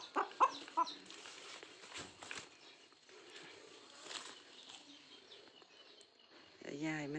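Several chickens with swollen faces and eyes, sick with a cold, cluck and squawk nearby in short bursts, with a louder drawn-out call near the end and faint background noise.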